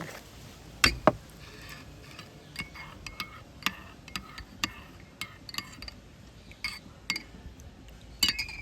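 A spoon stirs spice mix in a glass of water, making a quiet, irregular run of light clinks and taps against the glass spread across several seconds, with no voices.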